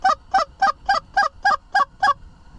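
Canada geese honk in the late-season snow of a December hunt, eight evenly spaced, close, loud honks in a steady rhythm over a faint background hiss.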